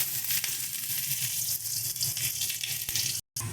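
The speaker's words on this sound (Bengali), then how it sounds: "এবার এর মধ্যে আমরা পেঁয়াজ ফোড়ন দিয়ে দেবো" Onion sizzles steadily in hot oil in a wok, a dense, even frying hiss filling the clip with a brief break near the end.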